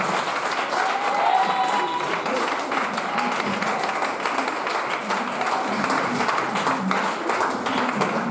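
Church congregation applauding during a service, steady dense clapping from many hands with a few voices and cheers mixed in throughout.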